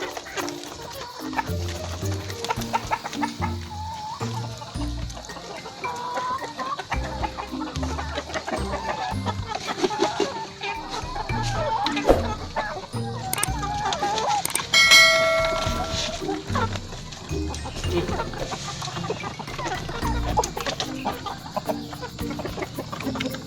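Free-range chickens cluck and call repeatedly at close range throughout, with a bright ringing tone briefly rising above them midway.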